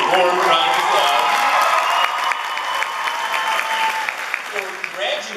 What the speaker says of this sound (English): please give a very warm round of applause